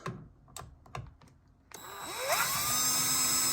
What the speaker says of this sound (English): So I'm gonna take the drill.